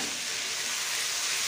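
Raw reba fish sautéing in a pan gives a close, constant, bright sizzle and hiss that stays even throughout the short stretch.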